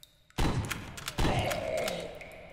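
Heavy thuds and bangs from grenades thrown by enemies in the Venturous mod for Doom, a pair of loud impacts with rumbling tails and scattered clatter, close and alone with no talk.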